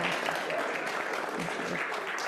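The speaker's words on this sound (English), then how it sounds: "We can give her a round of applause." A short burst of clapping from a worship service congregation, moderately loud and fairly sparse, lasting a couple of seconds.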